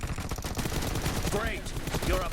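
Gunfire in PUBG Mobile rattles in rapid automatic bursts, fast repeated shots crackling close and loud, while someone talks over the shooting.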